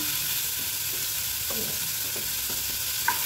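Tomato and beetroot roast in a pan while making a rava poha dosa, giving a steady close sizzle with a few soft stirring scrapes and one brief clink near the end.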